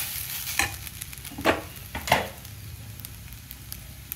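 Ivy gourd (dhondakaya) pieces fry in a pan with a faint steady sizzle while a spoon scrapes and stirs them in three quick strokes, quiet and close.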